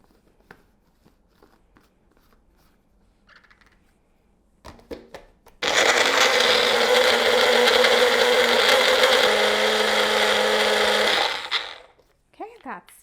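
Blender grinding fresh ginger with a few tablespoons of water into paste. After some quiet handling clicks, it starts abruptly as a loud, dense whirring roar and runs about six seconds, shifting pitch slightly before cutting off.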